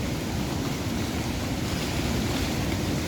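The River Taff pours over the Llandaff weir in Cardiff after heavy overnight rain, a steady, dense roar of rushing water that stays loud and unbroken with no voices.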